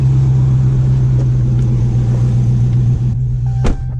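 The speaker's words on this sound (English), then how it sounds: "So I'm gonna start this little RT. Still sounds good." A Dodge Charger R/T V8 runs at a steady idle, a deep, loud, continuous rumble heard up close for several seconds, with a short sharp click near the end.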